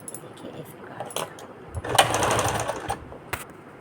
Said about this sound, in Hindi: इस प्रकार से यहाँ किनारे किनारे सिलाई डाल देंगे